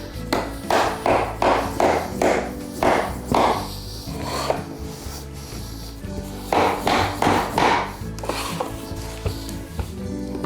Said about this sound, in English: Now we take our hammering block, put your weight on this other piece of wood.